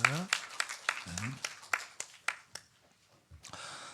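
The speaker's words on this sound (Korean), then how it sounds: "우리 다시 한번 축복에 박수하시겠습니다." Sharp, evenly spaced claps from a church congregation during a Sunday worship service ring out and slowly thin away, with a voice speaking briefly in Korean at the start.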